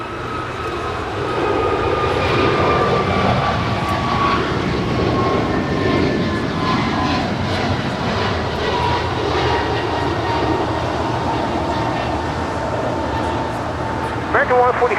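A jet airliner, American flight 143, takes off from LAX runway 25 right, a broad, loud engine roar sustained for the whole stretch with whining tones drifting across it, steady and fairly close.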